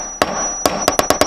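Sharp metal punch strikes into a wooden fishing lure body to recess the eye, six distinct taps: one, a pause, then a quicker run of five, close and fairly loud.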